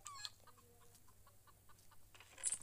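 Chicken clucking in a Roblox game: a run of short, soft, evenly spaced clucks at moderate distance, with a louder burst of game noise at the end and no talking.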